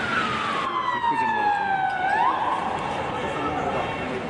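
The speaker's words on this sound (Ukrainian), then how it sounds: "Ми бачимо, приїхала швидка допомога." An ambulance's wailing siren sweeps downward and fades, with steady traffic noise and chatter in the background.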